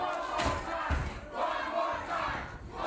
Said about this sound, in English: This crowd got into this match like nothing I've ever seen before, JJ.